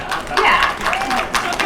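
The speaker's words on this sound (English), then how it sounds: "We can clap for that. We can clap for all of it." Audience clapping at a political slate announcement rally, a short burst of crowd applause mixed with a voice talking over it.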